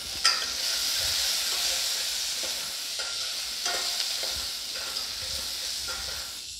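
A slit green chili drops into a hot pan for spinach sambar and sizzles steadily, a close, continuous frying hiss with faint stirring clicks and no voices.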